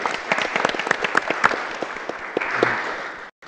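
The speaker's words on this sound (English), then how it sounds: "just join me in a round of applause for their giving spirit in our community" Audience members at a city commission meeting give a round of applause honoring Publix Supermarkets, a steady mid-sized burst of clapping in an indoor chamber that stops abruptly near the end.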